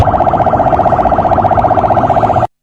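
A loud, rapidly warbling emergency siren sounds close by, its pitch wavering quickly and steadily for a couple of seconds before cutting off abruptly.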